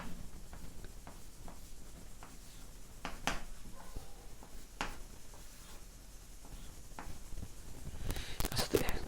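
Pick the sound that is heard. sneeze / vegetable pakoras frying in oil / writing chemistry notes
writing chemistry notes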